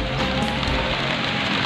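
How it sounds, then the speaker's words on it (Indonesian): Steady rain pouring down outdoors near a stingless trigona bee colony, a dense continuous hiss of drops hitting surfaces, close and fairly loud throughout with no voices. "Ini hujan ya teman-teman ya."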